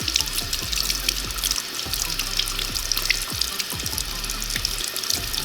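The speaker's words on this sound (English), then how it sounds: "you're just gonna run this under water and wipe off that cream" Tap water runs steadily over a glass piece being rinsed of etching cream in a sink, a close, continuous splashing gush with small shifting splatters as the glass is moved under the stream.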